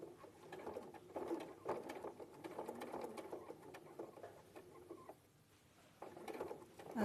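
A sewing machine stitches close to the edge of fabric, its rapid pattering run going in bursts with short pauses and a quiet gap near the end, close and fairly soft.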